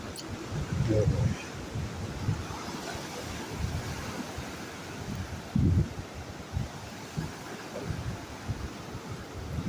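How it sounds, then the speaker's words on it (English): Strong wind buffets a beach with waves rolling in, producing a continuous rough roar with heavy low gusts hitting the microphone, while a person talks intermittently. "Wind's blowing at a pretty good clip."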